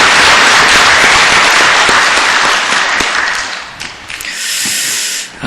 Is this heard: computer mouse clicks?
no